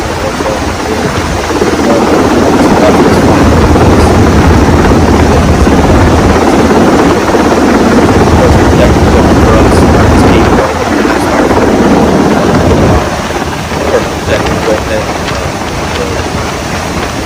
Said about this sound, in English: there's a Black Hawk helicopter right above us